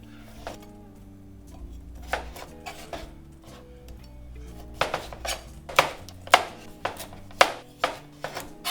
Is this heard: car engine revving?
no